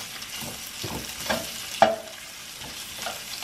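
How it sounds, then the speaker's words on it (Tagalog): Ingredients being sautéed and stirred in a pan for Tagalog-style fish escabeche, with a soft steady sizzle and intermittent spatula scrapes and taps, close up, with no talk. "Gisa-gisa lang"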